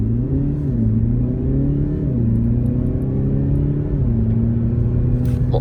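A Mercedes GLE Coupé 350de diesel hybrid SUV revs hard and steadily close by in sport mode, its droning pitch climbing and dipping between gear shifts, with no voices.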